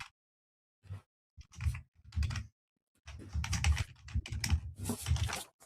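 A loud computer keyboard clatters in rapid bursts of keystrokes, a few isolated taps first and then a dense continuous run of typing, close and dry.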